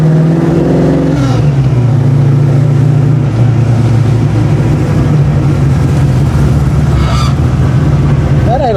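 A 1989 Mustang notchback with a freshly rebuilt carburetor idles steadily up close, a loud, continuous low engine rumble with a brief rev-like rise near the start and a short higher whine near the end.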